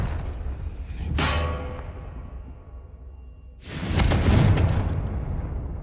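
Two Confringo blasting-spell explosions in Hogwarts Legacy, each a sudden loud burst that fades into a rushing, hissing tail. The second blast is fuller and longer than the first, and no one talks.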